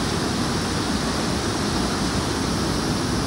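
Water rushes at Kalu waterfall down through a deep gorge, a loud, unbroken roar that stays constant from start to finish.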